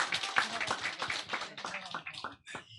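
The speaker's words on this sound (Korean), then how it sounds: "우리 임원진들 그동안 수고한 것에서 다시 한번 박수 한번 쳐주십시오" A group claps in a scattered, irregular patter of hand claps, moderately loud and close, tapering off toward the end.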